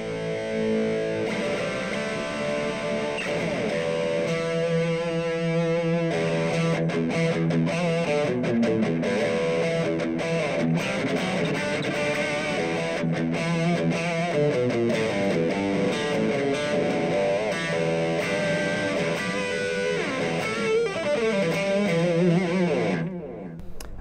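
Overdriven electric guitar through a Blackstar LT Echo 15 amp, a sustained distorted chordal and lead passage played continuously and loudly, with no talk.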